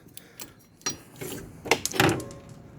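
A 15 mm front shock bolt is worked out of a CFMOTO ZForce 800 side-by-side, giving quiet metallic clicks, scrapes and a short ratcheting rattle, close up and with no talk.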